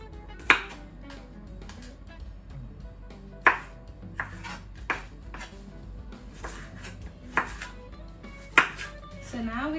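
A knife cuts through food on a board beside pans during Thai Pad See Ew pork cooking, giving several sharp distinct knocks spaced a few seconds apart over a low clattery kitchen background.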